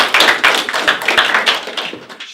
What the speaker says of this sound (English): everyone's going to have to wish him happy birthday and a round of applause